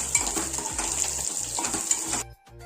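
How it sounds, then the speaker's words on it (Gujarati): Green chillies crackle and sizzle as they are tempered in hot oil for a papdi and brinjal vegetable dish, with metal utensil scrapes and stirring clinks, then the sizzle cuts out abruptly near the end. "મરચાંનો વઘાર કરી દીધો."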